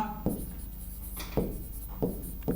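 Chalk strokes on a classroom board during a Hindi synonyms lesson: four short, separate scratches with pauses between them, fairly close and quiet, no voice.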